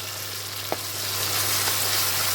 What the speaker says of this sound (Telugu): మొత్తం మెత్తగా అయిపోయేటట్టు బాగా వేయించుకోవాలి టమాటాని కూడా